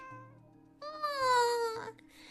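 A cat meows in the video game Genshin Impact, a single drawn-out falling mew of about a second, fairly clear over faint background game music.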